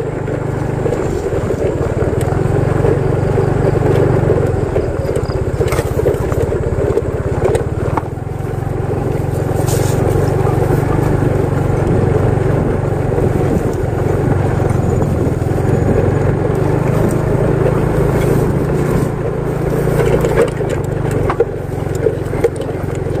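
A motorcycle rumbles steadily along a rocky road at dusk, its engine drone constant and close, mixed with rough wind buffeting and occasional rattles from the uneven surface.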